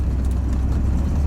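An old Corvette engine runs at a steady idle, a low, even rumble that stays close and constant, with no talk over it.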